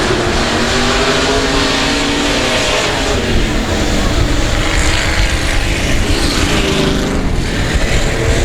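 Race cars roar past on the track during a qualifying night at the South Texas Nationals, a loud, steady engine drone with rising and falling pitch filling the whole stretch.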